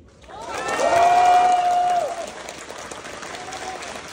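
Party members at a Rebuilding Korea Party rally in Ulsan burst into loud applause that swells for about two seconds, then tapers off into scattered clapping, with a faint voice-like tone in the mix.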